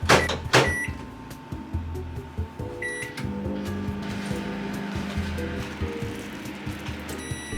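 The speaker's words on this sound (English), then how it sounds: "I'm gonna put that in the microwave." Microwave oven heating leftover rice from the day before in a home kitchen, a steady mid-level hum with faint tones and occasional clicks and clatter over about eight seconds, no talking.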